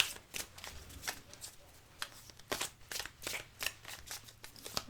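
Tarot cards are shuffled by hand in quick, close riffling bursts, a papery flutter repeating in uneven rhythm, quiet and crisp with no talk over it.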